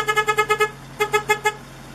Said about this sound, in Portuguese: Buzina, buzina aí.